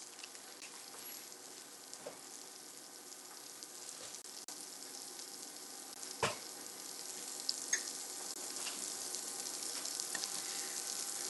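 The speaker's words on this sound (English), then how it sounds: "hear that sizzle?" Bell pepper eggs frying in a pan: a steady, close crackling sizzle that holds throughout, dotted with small pops and a few sharper ticks, with no talking over it.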